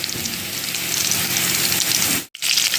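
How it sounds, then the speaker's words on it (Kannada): Curry leaves frying with chopped onion in hot oil, a loud steady sizzle and crackle that runs almost unbroken, with one brief dip near the end. "ಈಗ ಇದಕ್ಕೆ ಕರಿಬೇವು ಹಾಕಿ"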